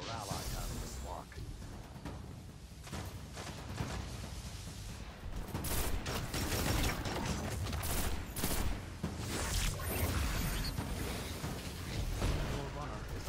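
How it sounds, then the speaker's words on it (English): Gunfire aimed at a runner in the game Destiny 2 comes as a loud fusillade of sharp shots and bursts, growing denser and heavier midway, with a game announcer voice speaking over parts of it. "Your runner is under fire."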